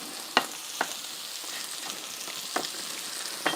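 Onions fry in a pan with a soft, steady sizzle, broken by a few sharper crackles and pops spaced irregularly, close and moderately quiet, with no talking.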